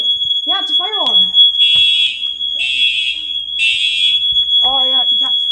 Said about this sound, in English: Oh yeah, you got the fire alarm going off.